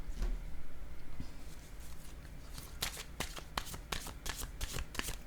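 Tarot cards being shuffled by hand, a close, soft riffling that builds into a series of crisp, rapid bursts of card flutter in the second half, over quiet room tone.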